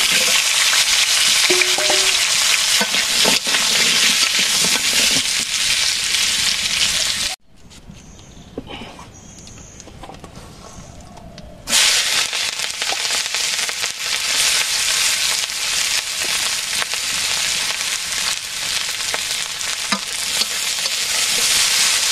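Fish fry in mustard oil in a village kitchen, a loud, continuous sizzle with stirring and scraping sounds, broken by a few seconds of near quiet before the crackling frying resumes.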